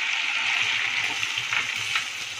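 Rice frying in ghee sizzles loudly and steadily as water is added after coconut milk, a continuous close hiss with no voice over it.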